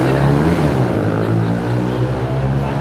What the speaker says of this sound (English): there's a motorbike guy making a lot of noise